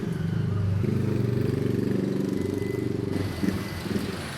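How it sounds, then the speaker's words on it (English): Steady stream of road traffic on Clerkenwell Road in London, engines rumbling and cars and motorbikes passing close by in a continuous loud wash, with a few heavier revs near the end. "There's lots of traffic in this area, so you can hear behind me"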